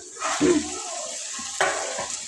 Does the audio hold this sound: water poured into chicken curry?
yes